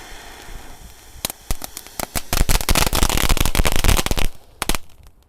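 A string of firecrackers set off in a puddle of water pops and crackles in quick bursts, building to a dense, loud rattle before a few final scattered bangs.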